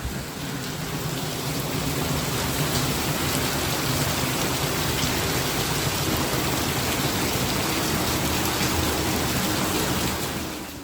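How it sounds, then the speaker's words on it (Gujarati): Steady, heavy rain pours down on a village as a dense, loud wash of noise, continuous from start to finish with no distinct thunderclap. "બહાર જબરજસ્ત વીજળી અને ખાટકા પડે ને વરસાદે ધોધમાર આજે ચાલુ હો"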